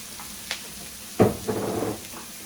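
Arborio rice sizzles softly as it toasts in a pan for mushroom risotto, with a light stir and a couple of brief scrapes over a quiet, steady hiss.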